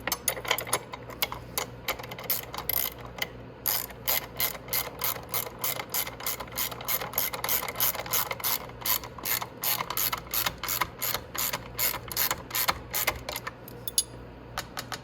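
A ratchet clicks in rapid, even bursts while a bolt is snugged up on the rear swing arm of a Venom 125cc Grizzly ATV, close and crisp with brief pauses between strokes.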